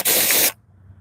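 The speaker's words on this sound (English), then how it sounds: "I'll show you how we do a test spray" A spray gun fires a short test burst of car paint: a loud, dense hiss lasting about half a second that cuts off abruptly, leaving faint low background noise.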